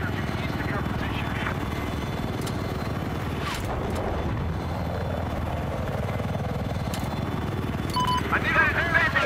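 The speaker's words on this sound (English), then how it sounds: "Spotted a hostile helicopter due east of your position." Attack helicopter in the video game Battlefield 4, a steady rotor and engine drone running continuously throughout, fairly loud and constant, with brief game alert tones near the end.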